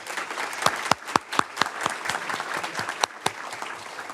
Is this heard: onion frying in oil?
no